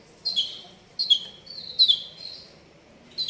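Songbirds kept for sale, a pair of F1 male and female birds, chirp in short high tweets. Four bursts come at roughly one-second intervals, fairly close and clear, with faint low background noise underneath and no talking.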